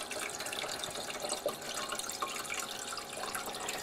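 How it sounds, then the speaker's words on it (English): Water pours steadily into the reservoir of a Freezimer countertop ice maker, a continuous close splashing and trickling with faint drips and no talking. "You see how it fills with water,"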